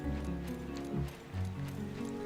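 Horse hooves clip-clopping in the video game Suikoden 3, a quick, uneven rhythm of close thuds over a low musical drone, with no speech.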